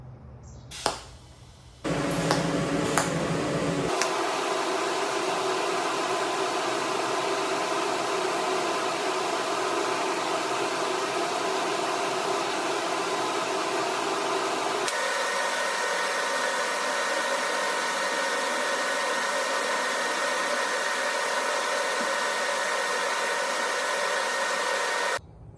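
Steady hissing buzz of a TIG welder laying a test bead on a metal coolant tank at 65 amps, starting after a few clicks and running continuously for over twenty seconds at constant loudness before cutting off.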